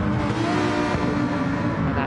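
Lamborghini GT3 race car in a racing video game, engine droning loudly and steadily at high revs alongside other cars, with a commentator talking over it throughout.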